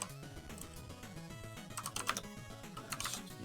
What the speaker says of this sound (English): Oh, you can hear my typing now.